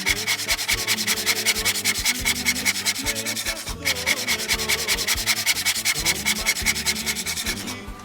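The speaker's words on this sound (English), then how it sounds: "thing I'll do is just zest this lemon." A fresh lemon is zested against a grater in a home kitchen, producing steady, close, rhythmic rasping strokes that run continuously over a low musical background.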